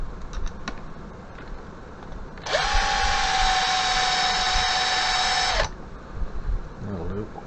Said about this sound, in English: And just increase that countersink slightly.